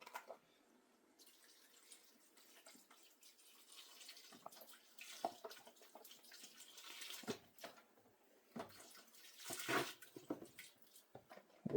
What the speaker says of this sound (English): Add your beef broth.